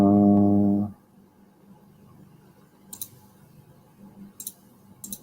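Computer mouse clicks during a live online presentation on bio-fertilizers: a few sharp, isolated clicks spaced a second or more apart over a quiet background, following a brief loud tonal burst at the start.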